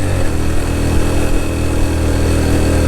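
A motorcycle engine labors up a steep jeep track at Baboon Top in Neelum Valley, a loud, steady, close drone that holds without a break for the whole stretch, with no voices.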